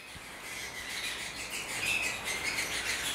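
A caged canary sings in soft, continuous high twittering trills that grow slightly louder toward the end, with no voices over it.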